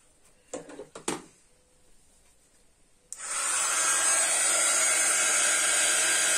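A few soft handling knocks, then a hair dryer switches on and blows steadily and loudly, drying ink on a stencilled scrapbooking card.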